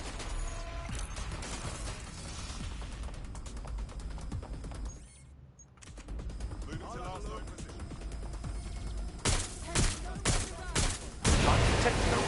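Gunfire and crashing mechanical clatter as temperature regulators are shot apart in Watch Dogs Legion, with dense game noise throughout, a brief lull midway and louder bursts near the end, under someone talking.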